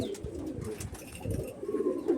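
A pair of Madrasi Andhra pigeons coos in low, throaty rolls that repeat steadily, close by and fairly quiet, with no voices over them.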